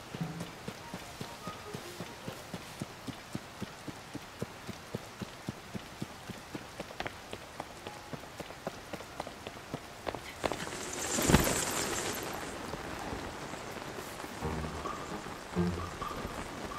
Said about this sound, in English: Wow, it's really pouring rain.